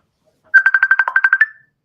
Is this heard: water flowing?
no